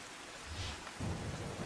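Steady heavy rain in Valsad, Gujarat hisses in a soft, even wash with a low rumble underneath. It is fairly faint and continuous, and no voices can be heard.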